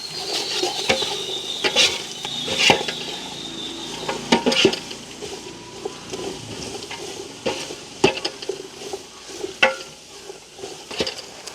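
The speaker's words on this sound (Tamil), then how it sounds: "வெங்காயம் நல்லா வதங்க வேணும் உங்களுக்கு" Onions sauté in a pot for quail biryani in a village kitchen: steady sizzling frying under repeated scraping and clanking stirs of a utensil against the pot, close and uneven, with no voices.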